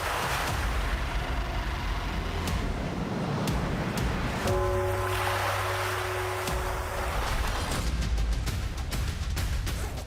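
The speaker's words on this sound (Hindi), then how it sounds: "समुद्र की तेज लहरें कुछ भी यहां पर टिकने नहीं दे रही" Strong sea waves crashing around a sea fort, a constant loud roaring wash of surf that fills the whole stretch, with a steady drone in the middle.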